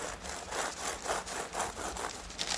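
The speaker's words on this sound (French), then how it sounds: "À l'aide du couteau-scie, couper environ aux 2/3" A serrated knife saws back and forth through a bread crown in quick rhythmic strokes, each rasping pass close and distinct.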